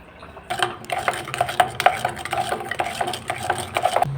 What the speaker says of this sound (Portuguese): Aí a gente bota o dobro de água.